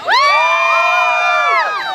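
A crowd of wrestling fans, many of them children, cheers and shouts in one loud, close, sustained burst of high voices lasting nearly two seconds before tapering off.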